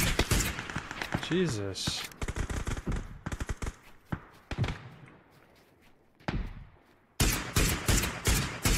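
Gunfire in the shooter game PUBG: several sharp shots and short bursts scattered across the moment, ending in a dense rapid volley, while a player talks and exclaims between the shots.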